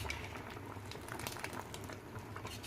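Milk boils in a kadhai on a gas stove for rice kheer, a close, steady bubbling and fizzing that continues evenly throughout.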